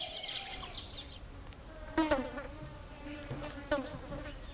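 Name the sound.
flies buzzing around a resting wild animal in forest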